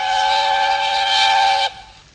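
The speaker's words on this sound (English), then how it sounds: "Presently, he heard a whistle." A steam locomotive whistle blows one long, loud, steady note for under two seconds, then cuts off sharply and fades into quiet.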